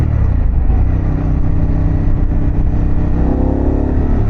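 A Harley-Davidson Pan America Special motorcycle engine running steadily on a road, a loud continuous drone that holds a fairly even pitch throughout with no talking.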